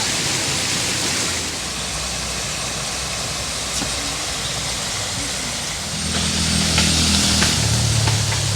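The Palappuzha river near Arla farm rushes past in a steady, broadband wash of flowing water that continues unbroken and grows slightly fuller toward the end.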